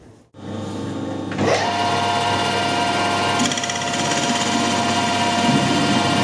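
A metal lathe starts up and runs steadily while facing and drilling a chewy, copper-coloured metal part, giving a close, continuous high whine with a bright tonal hum over machining noise.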